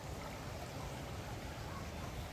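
Floodwater of the Ganga at a Haridwar ghat flows in a continuous, even rush, a steady wash of noise without pauses or voices, moderately loud and close.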